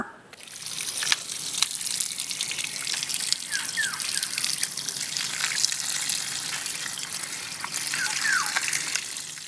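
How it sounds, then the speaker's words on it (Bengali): Water from a kitchen tap runs steadily over an elephant foot yam being washed, a close, continuous splashing rush with small drips and wet handling noises throughout, and no talk. "এখন রান্নাঘরে যাব আর ওলটাকে ভালো করে ধুয়ে নেব।"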